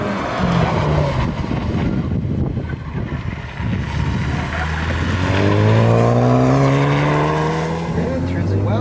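A 2021 Hyundai Veloster N DCT or Honda Civic Type R accelerates hard out of an autocross corner on a track, its engine note climbing in rising harmonic sweeps, loud and close, with a voice talking over it.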